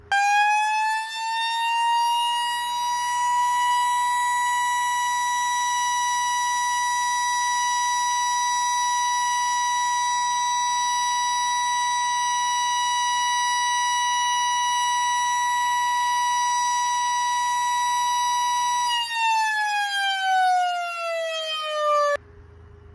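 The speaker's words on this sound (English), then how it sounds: "siren test was very loud" A loud Lion King JDL188 siren, tested without a blocked intake, winds up to a piercing steady wail, holds its tone for a long stretch, then winds down and cuts off abruptly.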